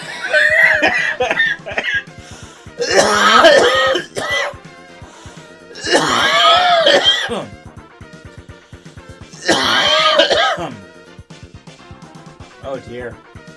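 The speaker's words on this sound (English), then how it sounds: "Laughed so hard I coughed." A person coughs hard after a fit of laughter while playing Rockman X2, the loud, raspy coughs coming in several close bursts that mix with laughing and throat clearing.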